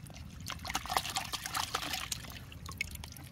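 Water trickling and splashing as sand is rinsed off plant roots, a fairly quiet, irregular stream of small drips and pours lasting a few seconds with no voices.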